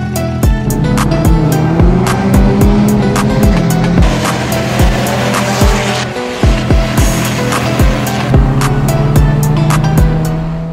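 A car engine revs and pulls away up close, its pitch climbing through the gears, with repeated clunks and rattles over the loud drone.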